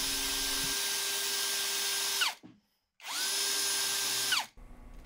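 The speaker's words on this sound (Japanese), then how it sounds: "リベットはドリルの揉んで外します。" A cordless drill driver whines through two bursts drilling out rivets on a Honda NSR50 silencer, each run spinning steadily then winding down, with a short silent gap between them, close and loud.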